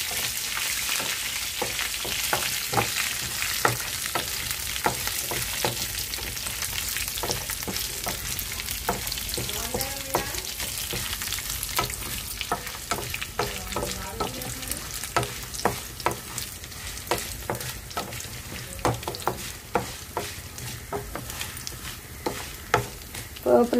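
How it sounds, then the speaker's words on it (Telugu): Tempering spices with chana dal and urad dal sizzle steadily in hot oil, with garlic and ginger in the pan, a dense continuous crackle broken by frequent sharp pops and light stirring clatter, close and alone without voices. "పోపులు వేగుతున్నాయండి."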